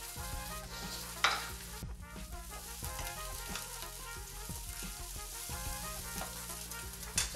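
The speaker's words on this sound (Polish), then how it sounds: "Czosnek będzie smażył się razem z cebulą" Onion and garlic sizzle steadily in a hot pan, with occasional scraping and stirring clatter from a utensil, close and fairly quiet.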